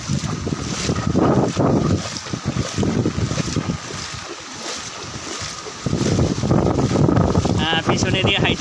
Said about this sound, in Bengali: প্রচুর পরিমাণে বাতাসের গতি।